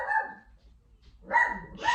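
A house dog barks indoors: one bark, a brief pause, then two more barks in quick succession, moderately close and loud.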